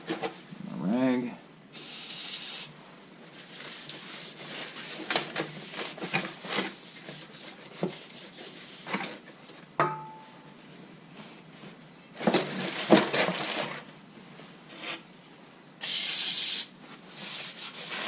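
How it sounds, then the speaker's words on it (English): Brake cleaner sprayed from an aerosol can onto the brake parts of a 2001 Ford F150 during a dust shield replacement, with several sharp hissing bursts of varying length mixed with clinks and handling noise. "Need some brake clean."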